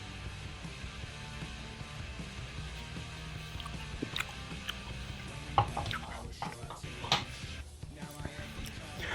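Riblets cook in a homemade barbecue Dr. Pepper sauce, giving off a steady close sizzle with a few louder pops and clicks scattered through it.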